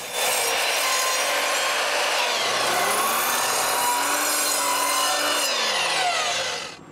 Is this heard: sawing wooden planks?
yes